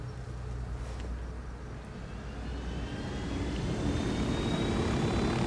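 A helicopter in the video game Ghost Recon Wildlands, a steady droning rotor and engine rumble that swells slightly louder toward the end, heard alone without talk.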